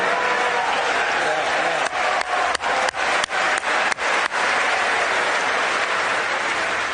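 A large audience at a speech breaks into loud, sustained applause, steady and dense throughout with a few sharper bursts near the middle.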